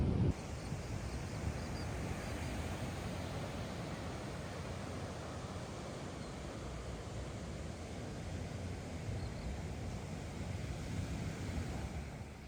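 Waves washing onto a coastal beach with wind buffeting, a continuous broad rushing surf that swells and eases slightly, moderately loud and steady, with no voices.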